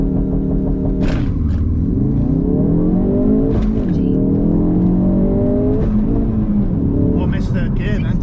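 Ford Focus RS Mk3 launching hard from a standstill, the engine revving up loudly through rising pitch sweeps with brief drops at gear changes, close and heavy, with a voice speaking over it.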